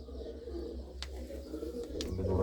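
Low pigeon coos roll softly in the background, with two brief sharp clicks and a faint hum of surroundings.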